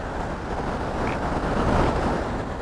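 A rushing river current runs near a waterfall in the American West, a dense, steady roar of churning water filling the air without a break, loud and close.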